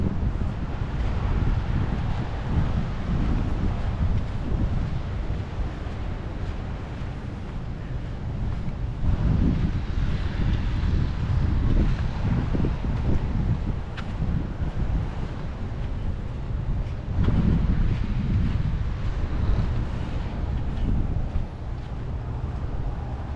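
Ocean waves and surf on a Florida Emerald Coast beach roll in continuously, with surges of rushing water and heavy wind buffeting the microphone.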